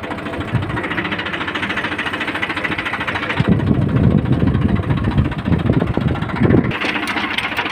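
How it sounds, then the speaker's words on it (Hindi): A tractor reverses in a potato field, its engine running steadily with a rough, knocking idle that grows louder and heavier midway through, close and continuous, with no talk. "अभी ट्रैक्टर बैक हो रहा है"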